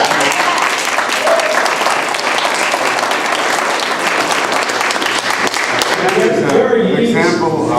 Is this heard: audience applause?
yes